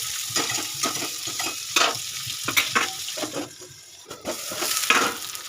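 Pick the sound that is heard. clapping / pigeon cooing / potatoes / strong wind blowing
potatoes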